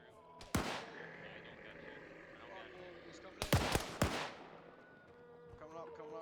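Gunshots in a first-person shooter video game ring out as one sharp crack, then a tight burst of three or four shots, with some distant firing and faint voices under the noise.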